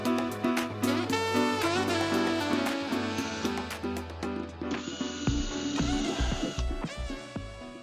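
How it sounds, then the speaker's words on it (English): A power drill bores holes in an aircraft wing tip during a Sling TSi kit build, whirring in repeated short bursts with clicks and tool clatter between runs, close and fairly loud. "we can just drill the rest of them"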